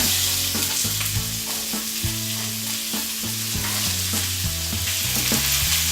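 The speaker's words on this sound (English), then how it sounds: "Now I'll add my onion and carrot to the pan." Onion and carrot wedges sizzle steadily in a pan over medium-high heat for a veggie stir-fry, a loud continuous frying hiss with light stirring and a tuneful background underneath, no talking.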